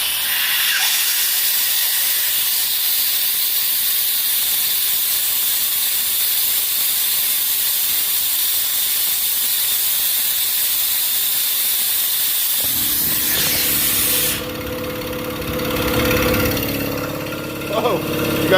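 An air compressor at a fire department runs with a loud, steady hissing roar close by, then its sound shifts abruptly into a lower mechanical rumble with clanks as it cycles.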